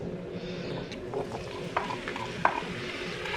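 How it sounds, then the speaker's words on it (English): Sliced onions frying in hot oil and ghee for an egg korma, a steady low sizzle with occasional stirring scrapes and a couple of small clicks of a utensil against the pan. "The oil is now hot, so I will add the sliced onions"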